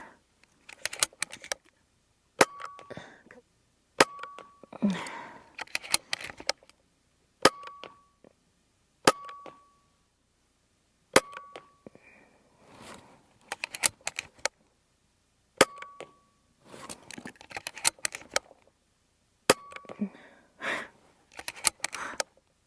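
An Umarex Notos .22 regulated air rifle carbine fires a series of sharp, close cracks spaced a few seconds apart, each followed by clicks and handling of the gun, with quiet gaps between.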